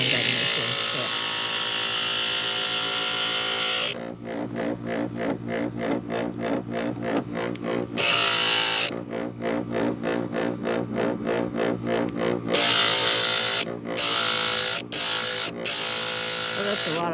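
A glass grinder buzzes loudly against cut glass, its whine alternating between full continuous passes and stretches of rapid pulsing chatter as the piece is pressed and lifted, close to the listener.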